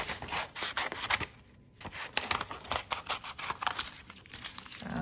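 Scissors cut a printed photo along its edge, making close, crisp snipping and rustling paper sounds in quick irregular strokes with a brief pause partway through.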